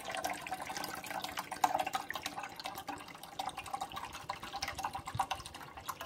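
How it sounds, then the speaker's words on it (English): Fresh water from a sink is poured into the reservoir of a Starbucks Verismo coffee and espresso maker, a steady splashing trickle running throughout at moderate loudness with no talking. "Now I'm going to fill this up with water and dump it in there now."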